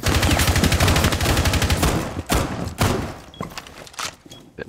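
Rapid automatic gunfire from the video game Rainbow Six Siege fills the first two seconds with dense, loud, close shots, then a few single shots and thuds follow as the firing trails off.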